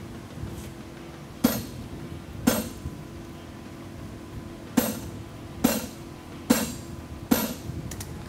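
A hammer strikes a Flatland Forge bob punch on hot steel at a blacksmith competition, six sharp ringing blows spaced irregularly a second or two apart.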